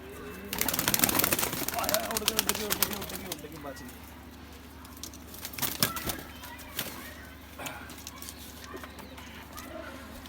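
A pale yellow-eyed, pink-beaked female pigeon in a loft, clattering wing flaps and scuffling up close with low coos, while someone talks intermittently.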